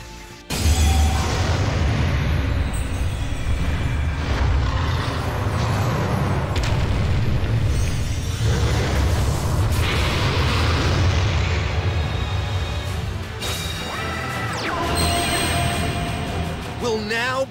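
A Blue Eyes White Dragon summon effect from the card game Yu-Gi-Oh! Duel Links plays as a loud, sustained, booming roar with rumbling bursts and sweeping tones over about seventeen seconds, with no speech.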